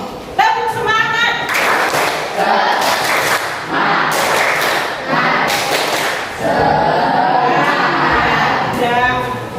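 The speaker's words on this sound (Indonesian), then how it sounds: "Tepuk semangat sekali lagi." A classroom of students doing a rhythmic spirit clap (tepuk semangat), loud bursts of patterned hand claps and thumps mixed with children's chanting voices, the group cheering and calling out throughout at close range.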